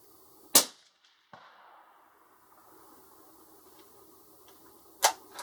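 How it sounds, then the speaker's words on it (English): A Ruger American Ranch rifle fires at an outdoor range, a sharp loud crack that rings out into a decaying tail, followed by a faint distant impact and a second sharp report near the end. "Ready for me to shoot it again?"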